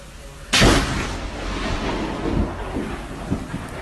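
Thunder during a pouring rainstorm: a sudden loud crack followed by a long rumbling roll that fades under wind and rain noise.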